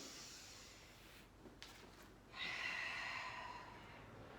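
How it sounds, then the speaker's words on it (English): Breathing during a pilates mat class: a quiet breath and a faint rub at first, then a stronger, steady exhale close to the microphone. No one talks. "One more breath."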